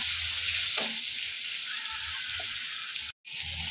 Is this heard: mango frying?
yes